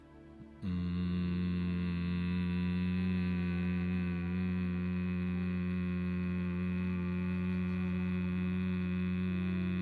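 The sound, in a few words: humming exhale imitating buzzing bee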